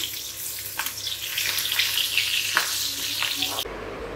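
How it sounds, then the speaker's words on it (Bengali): Fish frying in a pan in a home kitchen, a close steady sizzle with a few sharp crackles and spits, cutting off abruptly near the end. "এখানে এই যে মাছ ভাজছি"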